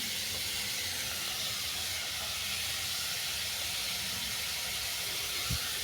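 Cucumber and ginger sizzling in a pan as they are stirred, a steady, close hiss of frying that runs continuously without a break.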